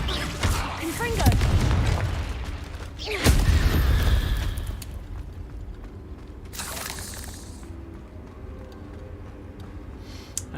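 Blasting spell explosions in the video game Hogwarts Legacy: two heavy booming blasts close together early on, each with a rumbling tail, then a quieter stretch with a brief burst and faint mechanical clatter.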